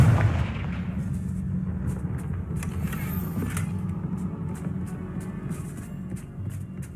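Blasting fire spell cast in a Harry Potter video game, a sustained low rumbling roar with a steady series of sharp crackling pops over it, loud and close throughout.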